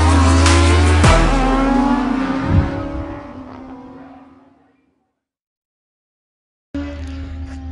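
A tuned Junak moped engine with 80cc injection starts and revs hard nearby, climbing in pitch, then fades and cuts to silence before a Barton FR 2021 Euro 5 moped engine resumes loudly.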